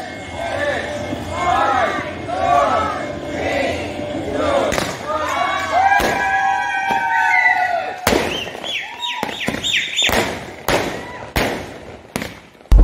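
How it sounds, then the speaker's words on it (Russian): New Year fireworks pop and crackle outdoors on a farm in Saudi Arabia, with sharp bangs growing denser toward the end over crowd noise and voices. "под конец был салют"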